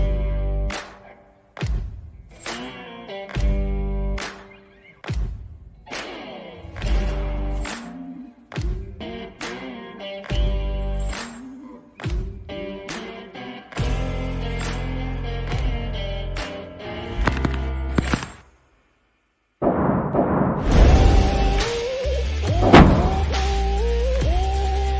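Rapid and single AK74 rifle shots fired at bulletproof glass, loud sharp cracks repeated at irregular intervals with ringing decay, then a brief silence followed by a denser burst of clattering impacts.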